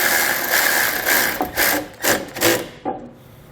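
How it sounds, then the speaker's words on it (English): A screw being snugged down with a 6mm Allen key on a socket during a nerf bar install on a 2020 GMC Sierra: several close, short rasping and ratcheting turns that come in bursts and then stop. "we'll just go ahead and snug down this screw now"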